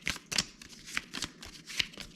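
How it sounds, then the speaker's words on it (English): A deck of playing cards is shuffled in quick riffled bursts, about five crisp rustling snaps over two seconds, close and alone with no talk. "so out of there, we're going to mix in the fire truck, shuffle these up real good"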